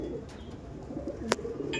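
Low cooing from Andhra Madras pigeons runs throughout, close and moderately loud, broken by a sharp brief click near the end.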